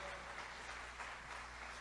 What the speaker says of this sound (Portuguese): aplauda mesmo ao Senhor